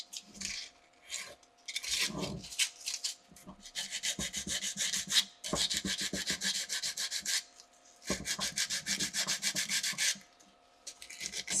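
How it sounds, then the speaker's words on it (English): Sandpaper rubbing orange enamel coating off the end of a copper coil wire, in close, steady back-and-forth rasping strokes that come in bursts with short pauses between them. "That's one way is to like sand it off."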